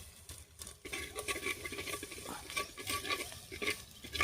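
Mutton tripe is stirred with salt and turmeric inside a pressure cooker over a wood fire, giving soft, steady scraping and wet shuffling close up, with no voices.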